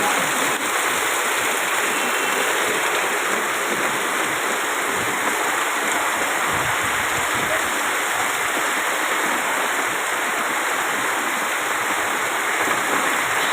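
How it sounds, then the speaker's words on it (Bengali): Torrential rain pours down steadily in a hilly area, a dense unbroken roar of falling water like a waterfall, loud and close throughout with no voices. "আট হয়ে গেছে বৃষ্টি হচ্ছে"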